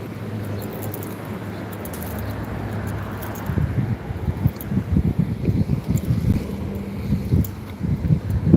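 A breezy outdoor day during a walk brings low, gusty wind that rumbles and buffets against the microphone, growing choppier and stronger partway through.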